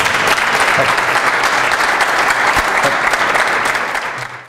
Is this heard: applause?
yes